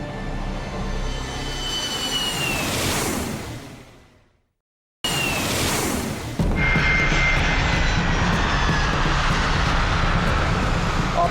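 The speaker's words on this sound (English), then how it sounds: "Our plane lands safely." A passenger airplane coming in to land roars loudly with a whooshing jet engine sweep, cuts briefly to silence, then returns as a sustained heavy engine roar and rumble.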